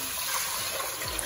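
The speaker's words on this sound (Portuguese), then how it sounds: "Agora a gente vai vir com 1 litro de água e vai colocar nesse arroz." A litre of water poured into a pot of raw rice for creamy sweet rice pudding, a steady broadband gush of liquid filling the pot continuously and fairly close, with no talk over it.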